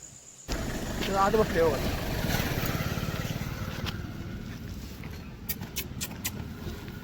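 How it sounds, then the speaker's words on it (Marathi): An animal rescue organization's vehicle idles nearby. After a brief quiet moment, its engine starts a low, steady rhythmic rumble, with faint voices and a few sharp clicks over it. "राहत ही ॲनिमल संस्थेची गाडी आलेली आहे."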